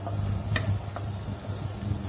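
Chopped green onion sautéing in a pan for vegetable soup, a steady close sizzle with occasional stirring scrapes and clinks, no voices.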